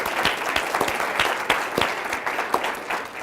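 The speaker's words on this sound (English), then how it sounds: "Round of applause for these 3 folks as well." Audience at a school district safety and security meeting applauds its school resource officer and guests, a steady wash of many hands clapping, with sharper individual claps standing out throughout.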